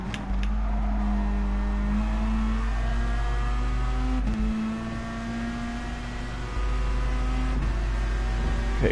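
A race car in GT Sport accelerates from the start with a steady, rising engine drone and periodic gear-change dips. A Citroen runs just ahead. The engine is loud and close throughout, with no talk.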